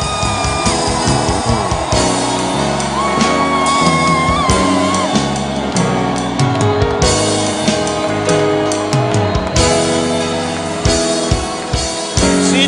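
A church congregation at a French-language youth service raising loud cries of joy, sustained shouting and whooping over a dense, continuous backdrop of music, with no quiet gaps.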